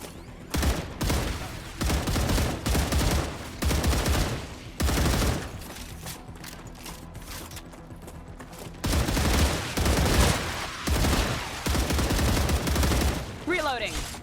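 Star Rupture video game gunfire: loud bursts of automatic weapon fire in repeated volleys, with a quieter stretch of lighter shots and game noise between them, ending in electronic effect tones.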